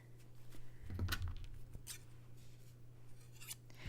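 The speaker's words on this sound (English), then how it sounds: "so I make sure that I cut it all out" A few quiet snips of scissors cutting through fabric, close by, with soft rustling of cloth between cuts.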